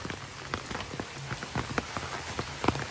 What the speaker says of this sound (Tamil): இப்போ மழை பெஞ்சு கொண்டு இருக்குது